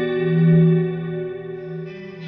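Neunaber Wet Reverberator reverb plugin set to a bright, high-frequency-only tail on a sustained tone, a steady shimmering wash that swells slightly, then holds at even loudness with no talk.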